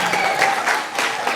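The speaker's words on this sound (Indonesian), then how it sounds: "Tepuk tangan dulu, tepuk tangan." Brief burst of audience applause at a school religious talk event, steady broadband clapping from a crowd filling the short moment without speech.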